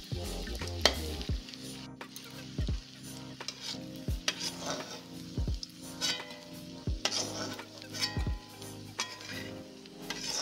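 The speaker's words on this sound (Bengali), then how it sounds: "গ্যাসটা মিডিয়াম আঁচে রাখতে হবে, রেখে এগুলোকে লাল লাল করে ভাজতে হবে।" Veg manchurian balls fry in a pan over a medium flame, a soft steady sizzle broken by repeated sharp clinks of a utensil stirring and tapping the pan.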